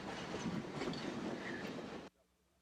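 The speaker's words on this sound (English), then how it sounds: "let's wait for a fast E44 to run by" An O gauge model E44 electric train runs past on a layout, a loud steady rolling clatter that ends abruptly, leaving near silence.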